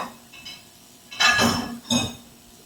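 Rinsed plates clink and clatter as they are stacked into a home dishwasher, a couple of bright ceramic knocks close by after quieter handling sounds, with no talking.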